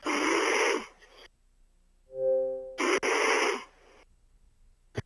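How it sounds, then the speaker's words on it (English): A man snoring loudly, two long harsh rasping breaths with a short quieter tonal wheeze between them, close and very loud, with no talk. "He's snoring."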